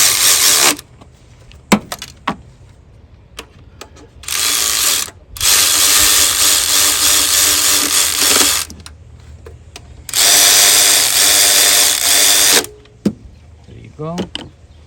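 A power tool tightens bolts on the EGR of a 1998-2002 Honda Accord with insufficient EGR flow, running in several loud bursts of a few seconds each, with short clicks and pauses between them.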